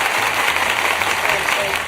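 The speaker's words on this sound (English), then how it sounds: "Let me applaud it two more times." Studio audience applause during a reality show reunion after-show, a dense steady burst of clapping, loud and close for the full moment, with voices faintly underneath.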